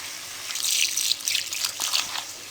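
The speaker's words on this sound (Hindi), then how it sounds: "इसमें हम पानी डाल देंगे" Water is poured onto ajwain seeds in a vessel, making a close, splashy trickle that swells and fades over a couple of seconds.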